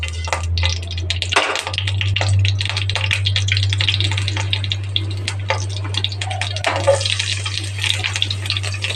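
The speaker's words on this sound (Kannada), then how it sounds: "ಸಾಸಿವೆ ಹಾಕಿದ್ದೀನಿ, ಗ್ರೀನ್ ಚಿಲ್ಲಿ ಹಾಕಿದ್ದೀನಿ, ಜೀರಿಗೆ ಸೇರಿಸ್ತಾ ಇದ್ದೀನಿ." Mustard seeds, green chili and cumin hit hot oil in a pan on a low-flame stove, giving a dense, continuous crackling sizzle with scattered pops over a steady low hum.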